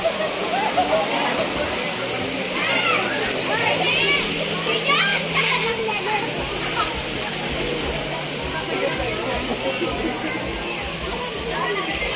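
Water flowing steadily at Bosay Resort in Antipolo, a continuous broadband rush with splashing, like a small waterfall or stream, loud and constant throughout, with people talking over it.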